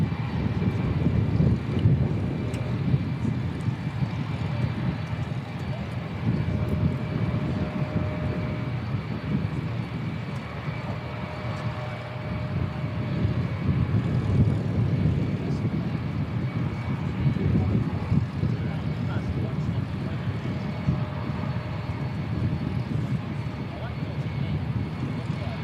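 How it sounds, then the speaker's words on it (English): Boeing C-17A military transport aircraft tracking south of Christchurch Airport, a steady roaring jet engine drone that lasts the whole time, with wind buffeting the microphone and someone talking over it. "C-17 is just tracking to the south of the airport."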